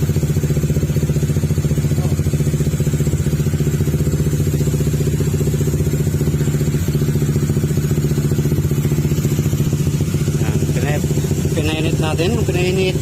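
Honda ADV160 scooter engine idling steadily while warming up, a loud continuous drone with faint metallic clatter, alone without talk.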